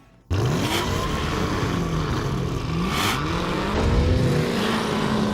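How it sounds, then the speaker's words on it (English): Racing cars rev hard and pull away together at the start of a round on a cool early morning, engines climbing and falling in overlapping sweeps, loud and close, with no talking. "Away we go, revving away."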